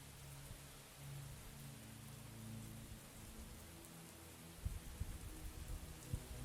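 Steady rainfall hisses continuously as the intro of a metal song, a soft even wash of rain with low tonal pads underneath and a few deeper thumps near the end.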